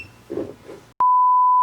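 A digital level tool sounds a steady electronic beep when out of level: a sharp onset, then one unbroken tone for about half a second, following a brief stretch of faint low rumble.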